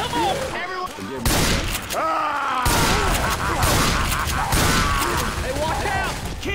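Rapid bursts of gunfire from a shooter game, crackling over loud booming effects, with people shouting excitedly throughout.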